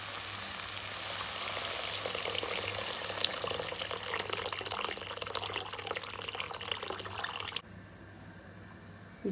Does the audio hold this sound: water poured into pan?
yes